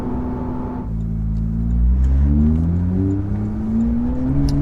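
Cabin view of a Porsche GT3 RS fitted with an AWE exhaust, its engine droning loud and steady inside the car, then rising in pitch as it revs up through the gears.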